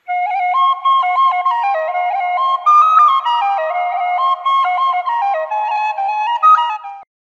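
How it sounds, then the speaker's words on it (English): A whistle plays a melodic tune of shifting sustained tones, loud and close, running steadily for about seven seconds with no voices. "W is for whistle."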